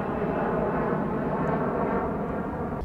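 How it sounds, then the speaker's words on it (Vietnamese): An airplane passes overhead above a grassy university campus in Japan on a drizzly autumn day. It is a continuous, broad roaring drone, fairly loud and steady throughout, with no voices. "có máy bay đang bay qua cho nên nó hơi ồn"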